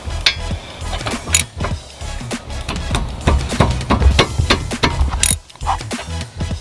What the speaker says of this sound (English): 14mm socket and ratchet